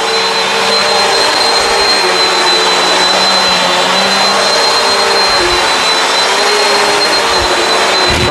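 Bissell CleanView Swivel Pet upright vacuum cleaner running continuously at close range, a loud steady motor whine and rushing airflow with a high, constant tonal hum, no voices over it.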